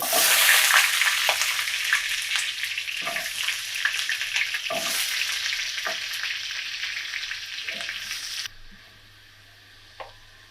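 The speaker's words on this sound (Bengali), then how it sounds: "এখানে আমি একটা আলু নিয়ে নিয়েছি, এইভাবে কেটে নিয়েছি, আর এটা একটু ভেজে নিব।" Loud, continuous sizzle of potato pieces frying in hot oil with occasional scraping taps, then the frying drops away near the end; no talking.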